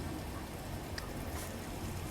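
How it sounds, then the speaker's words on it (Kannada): Water streams down a rocky hillside near Dudhsagar Falls, a dense, steady rushing hiss like heavy rain, even in level and unbroken, with no talk. "ಗುಡ್ಡದಾಗ ಎಲ್ಲ ಕಡೆಯಿಂದ ನೀರು ಇಳಿಯದ ನೋಡ್ರಿ"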